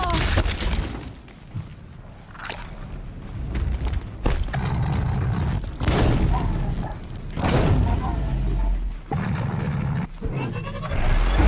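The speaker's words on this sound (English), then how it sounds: "forgot about the cannon" Cannon fire in the video game Horizon Zero Dawn lands as a series of heavy booms with shattering crashes, spaced a couple of seconds apart over a dense rumbling game soundscape, with a player talking between blasts.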